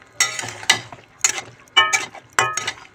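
A spoon scrapes and clanks repeatedly against a pot while ground cardamom is stirred into a dish, giving sharp, rhythmic metallic strokes about twice a second, close and clear.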